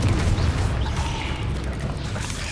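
Confringo fire spell explosions in Hogwarts Legacy during a cave battle: a loud, dense, continuous roar of booming blasts and crackling impacts that fills the whole stretch.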